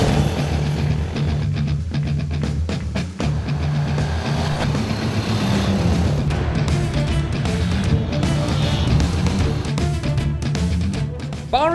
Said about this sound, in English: Powering the Impulse is the familiar air-cooled 150cc single-cylinder motor.